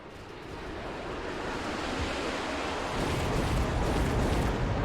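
Fire spreading across the battlefield in Mechabellum, a broad roaring rush that swells louder partway through and holds steady, with no voices.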